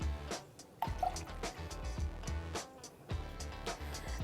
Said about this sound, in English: We're going to put in 25 milliliters of simple syrup